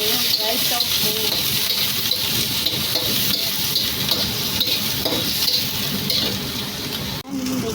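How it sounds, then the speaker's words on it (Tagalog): Dried tofu frying in a pan for fried rice, a loud, steady sizzle with constant stirring and clattering against the pan running throughout, with no talking. "So, ayan guys, nilagay ko na yung dried tofu."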